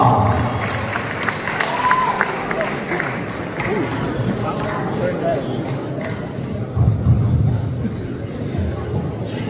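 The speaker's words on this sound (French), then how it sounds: "Est-ce qu'on peut applaudir pour Shaoba?" A debate audience applauds in a hall, a broad, steady wash of clapping mixed with crowd murmur that carries on for several seconds at moderate loudness.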